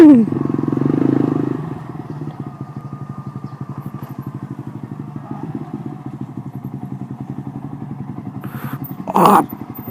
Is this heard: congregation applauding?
no